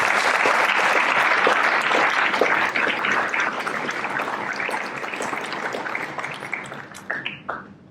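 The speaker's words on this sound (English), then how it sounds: "A big round of applause" Sustained applause from an audience at a school's annual speech day, dense steady clapping that holds for several seconds before thinning out toward the end.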